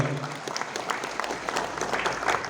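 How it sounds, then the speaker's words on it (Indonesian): Applause from an audience at a labor union gathering, honoring a union leader, a steady patter of clapping hands lasting throughout, moderately loud with faint crowd murmur beneath. "tepuk tangan untuk beliau"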